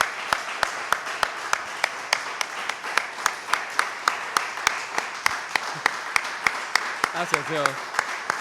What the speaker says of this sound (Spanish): ¿qué le parece si le damos un aplauso al Señor?